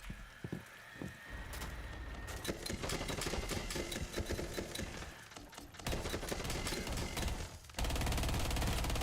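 Rapid automatic gunfire in Rainbow Six Siege, dense bursts of shots running through most of the stretch with short pauses between them, loud and close, no voices.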